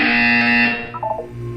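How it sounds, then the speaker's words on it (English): A loud electronic buzzer in a Portal 2 test chamber sounds as one sustained harsh tone, then breaks into a few quick warbling blips as it fades out. "You will hear a buzzer."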